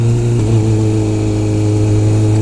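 Dirt bike engine running steadily in second gear, a loud, close, even drone with a low throbbing note and no talk over it.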